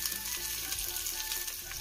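Shallots, garlic and ginger fry in a pan while being stirred, giving a dense, bright sizzle with faint scraping throughout, close up and without voices.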